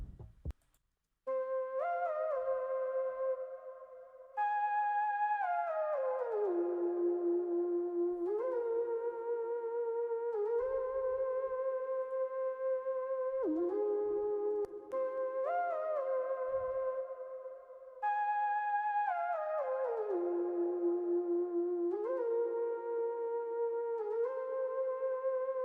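A synth lead from Nexus's classical category plays a melodic line with gliding, downward-bending notes and echo tails, repeating the phrase twice at a steady moderate level with no voices.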